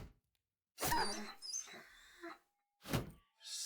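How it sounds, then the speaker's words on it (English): In the video game Battle Brothers, a dog takes a hit with a sharp thump followed by short yelps and whimpers, two clustered bursts and a later one, fairly quiet. "it sucks that the dog got hit"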